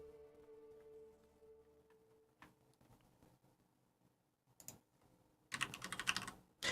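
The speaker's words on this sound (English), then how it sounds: "because I was typing away" Keys clatter on a computer keyboard during an online tabletop role-playing session, a few soft isolated taps and then a quick, loud burst of rapid typing near the end, close to the microphone.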